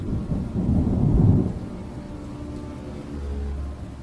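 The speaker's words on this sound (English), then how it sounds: "Just the wind and the sound of the rain." Stormy ambience of wind and rain used behind a horror story narration, a deep rumbling gust swelling early then settling into a low steady wash of rain.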